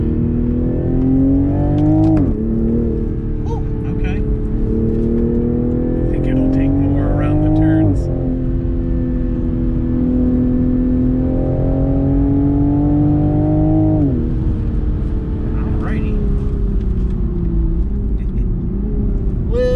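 A 2021 Toyota GR Supra on Michelin Pilot Super Sport tires revving hard through gears, its engine note climbing and dropping with shifts and crackling exhaust pops, loud and close, with someone talking over it.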